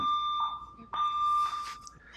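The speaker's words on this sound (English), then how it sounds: "That's like setting off this alarm." A shrill electronic alarm tone beeps in bursts, used as a sound effect during a Korean film director's talk, repeating over background voices and noise.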